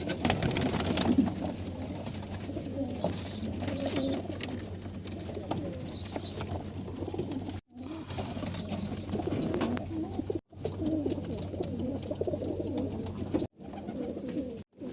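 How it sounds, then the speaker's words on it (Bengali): Pigeons in a loft above a shop in Oman coo in low, soft, continuous murmurs, the sound cut by several brief drops to silence. "এখন এই উপরে যে কবুতরগুলো আছে এই কবুতর"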